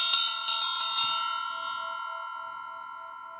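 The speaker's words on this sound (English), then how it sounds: "I'm going to go ahead and ring the bell in 4, 3, 2, 1." A bell is struck several times in quick succession, then its bright metallic tone rings on and slowly fades over a few seconds.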